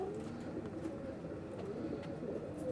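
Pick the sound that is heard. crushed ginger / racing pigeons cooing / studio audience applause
racing pigeons cooing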